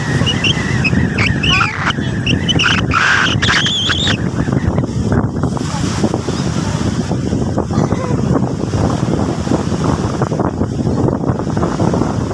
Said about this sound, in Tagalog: malakas ang alon guys o. Malakas ang alon.